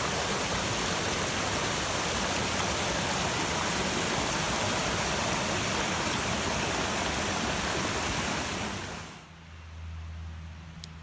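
Creek water rushing steadily in an outdoor wilderness setting, a loud, dense, continuous wash close by that drops away abruptly near the end, leaving a quieter low hum.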